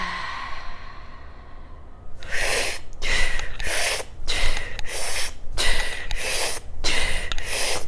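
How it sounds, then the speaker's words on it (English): Deep breaths during a guided breathing exercise: after a quiet start, a series of loud, close, rushing breaths repeat in a steady rhythm of inhales and exhales separated by brief pauses, with no talk. "Take a deep breath in."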